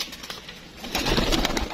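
Racing pigeons on a rooftop give soft, low cooing calls, close by and fairly quiet, growing a little fuller over under two seconds with faint background noise.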